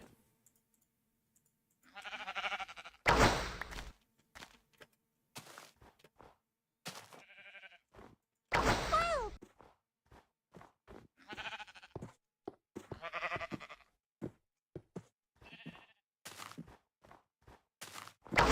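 Sheep bleating in Minecraft, with several short separate bleats spread across a stretch of soft clicks and footsteps, moderately loud and with no talk over them.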